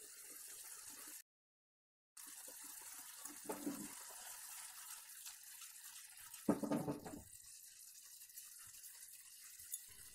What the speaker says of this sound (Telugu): దాని గురించి మనం నెమ్మదిగా అలా మగ్గించుకుని 1 గ్లాస్ నీళ్ళు పోసుకోవాలి.